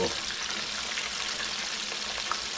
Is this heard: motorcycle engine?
no